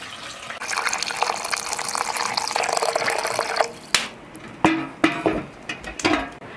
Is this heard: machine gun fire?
no